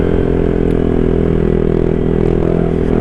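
A Honda PCX 160 scooter fitted with a Rez Speed SR V4 exhaust runs loud and close, a steady buzzing engine note with light rattling and no speech.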